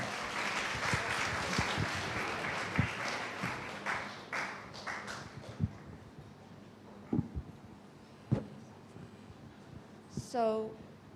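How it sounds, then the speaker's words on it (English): Audience applause for the EIS MUN Club at a school club expo, a broad wash of clapping that fades over several seconds into scattered claps and murmuring talk. "please give a round of applause to the EIS MUN Club"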